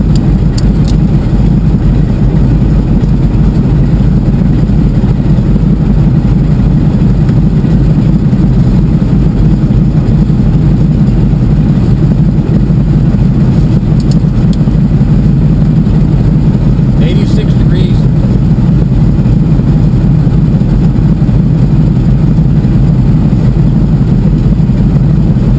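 A de Havilland Beaver seaplane's radial engine drones loud and constant in flight along the coast of Vancouver Island, a heavy, unbroken low rumble heard from inside the cabin.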